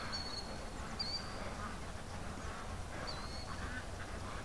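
Ducks playing in the water give a few faint, thin quacks over a constant noisy outdoor background, with no close or loud calls.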